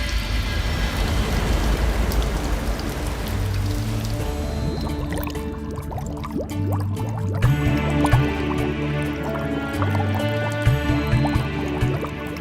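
A glowing fish is lowered into water, giving drips and a light liquid splash, then a run of plinking droplets layered over sustained background music.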